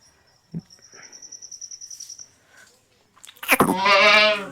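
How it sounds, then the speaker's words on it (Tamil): A goat on a farm lets out one loud, close, wavering bleat near the end, after a thin high whistle-like insect chirp and a few faint knocks. "இதான் குட்டி போட்ட ஆடு அது தனியாக வெளியில் கட்டி போட்டோம்"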